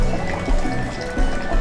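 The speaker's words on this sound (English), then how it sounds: "hold the ladle with your right hand and pour some water and rinse your face" Water poured from a ladle for rinsing at a Shinto shrine, a loud, steady close splashing and trickling stream that keeps flowing without a break.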